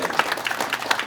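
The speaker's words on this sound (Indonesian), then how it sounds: "tepuk tangan dulu tuh." Audience applause in a military gathering, a short burst of dense clapping at steady moderate loudness with no pause.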